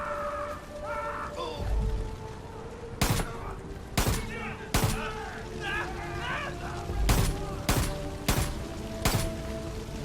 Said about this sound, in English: That was just me firing in the distance, hoping I could get something on him